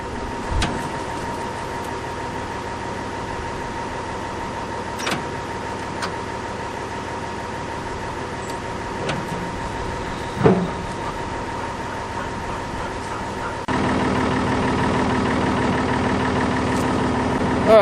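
A tractor backhoe engine idles in a steady mid-pitched rumble, broken by scattered clanks and knocks, then the running note grows louder and fuller near the end.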